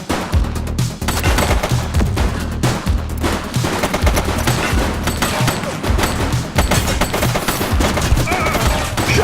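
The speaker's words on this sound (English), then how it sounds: "Shots fired!" Gunfire in the police game The Precinct: dense, rapid bursts of automatic fire and single shots crackle continuously at close range, loud and chaotic throughout.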